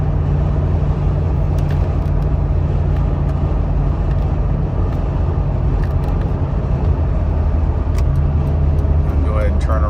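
A fully restored Jeep Cherokee XJ drives along a road, its engine note shifting through upshifts and downshifts, a steady loud rumble throughout with road noise and a voice talking over it.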